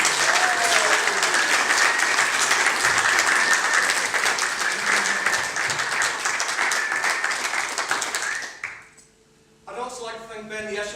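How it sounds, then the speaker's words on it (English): Wedding guests applaud the bridesmaids with loud, sustained clapping for about eight seconds, then it cuts off abruptly and a voice begins speaking. "So a round of applause."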